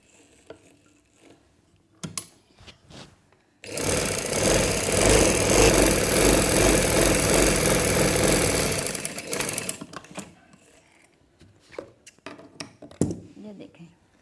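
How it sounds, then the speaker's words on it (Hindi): Sewing machine stitching a baby girl's frock, a loud continuous mechanical whirr running for about six seconds, with quieter handling clicks and someone speaking before and after the run. "इधर से मैंने दो सिलाइयाँ लगानी हैं"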